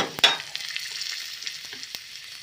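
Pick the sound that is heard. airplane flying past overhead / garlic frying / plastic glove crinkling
garlic frying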